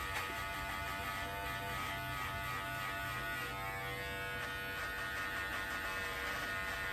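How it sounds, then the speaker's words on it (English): An electric shaver buzzes steadily close to the ear, a faint, continuous high-pitched whine with no pauses. "I feel like I need to shave that just a little bit higher."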